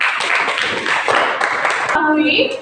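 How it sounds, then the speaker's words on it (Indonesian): Students in a classroom clap their hands together, a short burst of fairly loud, close clapping mixed with voices, fading out near the end as a tone sounds. "Tepuk tangan untuk semuanya."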